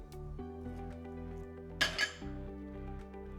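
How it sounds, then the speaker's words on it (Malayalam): Vegetables such as cucumber and yam are tipped into a metal pressure cooker, giving a brief double clatter and clink against the pot over a steady low background hum. "നമ്മൾ എടുത്തു വെച്ചിട്ടുള്ള എല്ലാ വെജിറ്റബിൾസും അത് നമ്മൾ ആദ്യം കുക്കറിലേക്ക് ഇടുക"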